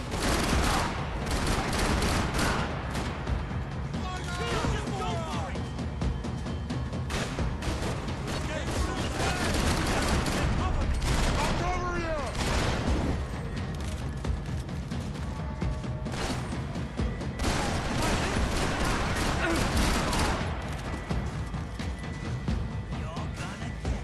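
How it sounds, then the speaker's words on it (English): Dense gunfire from the video game Max Payne 3, set over Hoboken: sustained fusillades of rapid shots and bursts with booming hits, loud and continuous throughout. "Gunfire over Hoboken."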